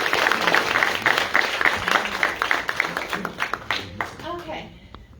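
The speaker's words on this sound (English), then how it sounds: "So I would like to give an exclamation point applause." An audience at a WC Day 2023 families event bursts into sustained, dense applause that gradually thins into scattered claps, while a voice speaks over the tail end.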